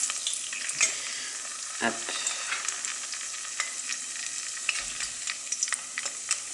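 Acacia flower fritters frying in shallow oil give a close, steady hiss with scattered pops and crackles, plus one brief spoken word.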